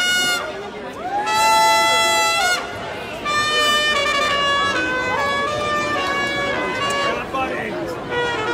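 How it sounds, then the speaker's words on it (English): A large crowd at the Vancouver freedom march, with the steady hubbub of many voices, scattered cheers and a few nearby people talking, plus sustained whistle or horn-like tones ringing above the din. "look at this beautiful crowd though"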